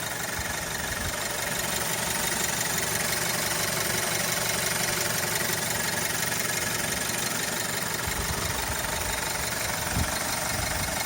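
A 2010 BMW 318i E92 coupe's 4-cylinder 2-liter engine idles steadily, close and even, with a constant hum and faint rhythmic ticking throughout and no voices.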